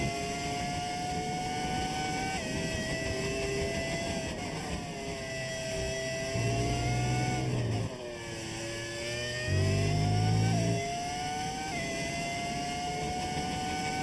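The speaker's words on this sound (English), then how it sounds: "Love listening to the old F1 engines." Old Formula 1 car engines in the F1 25 racing video game, a loud, sustained high-pitched whine that climbs and dips with shifts and throttle changes, continuous throughout.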